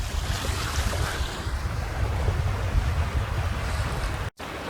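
Wind and waves rush steadily around a sailboat under sail, with a jib up and a reef in the main, near the Shaw and Carlisle islands. Broad hiss and wind buffeting on the microphone fill the scene, briefly cut near the end.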